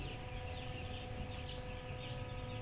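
Young broiler chickens, seven days old, cluck and peep faintly in a poultry shed. Their soft, continuous chatter sits under a steady ventilation hum.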